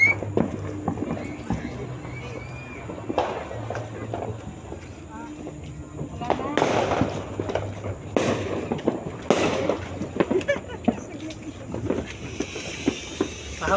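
Fireworks at a 2025 celebration burst in sharp, irregular cracks and booms, several close and loud, while people talk and exclaim throughout.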